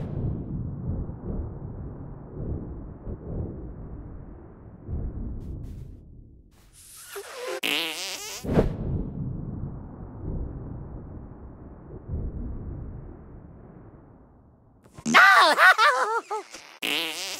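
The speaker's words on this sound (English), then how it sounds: "What is the sound of one anus farting?" Cartoonish fart sound effects from the video game South Park: The Stick of Truth, two loud, rippling, sputtering blasts standing out amid a low rumbling game soundtrack and voices.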